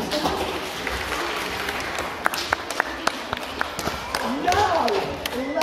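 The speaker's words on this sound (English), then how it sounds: "Applause for Autumn." Children and adults at a school class awards assembly clap for a pupil, a bright, uneven patter with sharp individual claps standing out, and voices and movement rising beneath it toward the end.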